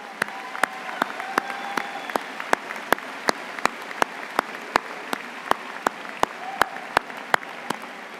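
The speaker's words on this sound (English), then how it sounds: "Please join me in applauding the faculty and all of the rest of our alumni" Applause for faculty and alumni at a university commencement ceremony, a steady patter of many hands clapping from a large seated audience, continuous and fairly even throughout.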